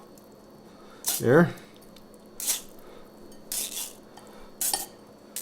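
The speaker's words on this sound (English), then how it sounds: "So I'm going to put it in another bowl" Drained ground meat is scooped into another bowl while making a keto lasagna. Four short, wet squishes and scrapes come with light clinks against the bowl, spaced over a few seconds, and a person speaks briefly.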